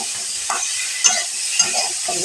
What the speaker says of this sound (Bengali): পেঁয়াজ কুচিটা দিয়ে দেবো খানিক্ষণ নাড়াচাড়া করবো